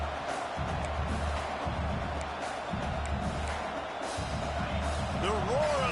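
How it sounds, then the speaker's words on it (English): A stadium crowd in an NCAA football video game roars as a steady, broad wash of noise for the whole span, with low rumbling surges and faint higher whistles or calls near the end. "The roar of the crowd trying to fuel this defense to keep them pinned in their own end."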